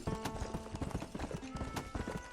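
Horse hooves in the Red Dead Redemption game, rapid uneven clip-clop thuds with a brief neigh, moderately loud and continuous.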